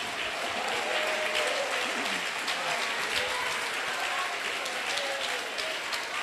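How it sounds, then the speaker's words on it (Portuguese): A church congregation claps in a continuous wash of applause during a Portuguese-language worship service, fairly distant and even, with scattered voices and shouts underneath. "Eu quero ouvir palmas misturado com glória a Deus"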